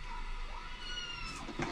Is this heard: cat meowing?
yes